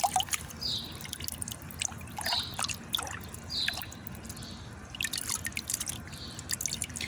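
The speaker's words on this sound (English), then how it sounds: "I love the sound of water." Steady water drips fall in an irregular rhythm, each a bright plink, over a low continuous trickle in the background.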